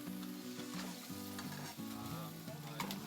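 Bacon and eggs frying in a pan at an outback camp, a steady close sizzle and crackle with occasional scrapes of a utensil, no talk.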